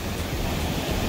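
Ocean surf rolling in at a Sierra Leone beach, a steady broad wash of waves mixed with wind noise on the microphone, loud and close, no voices.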